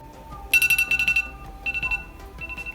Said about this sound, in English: I'm gonna set our timer for 5 minutes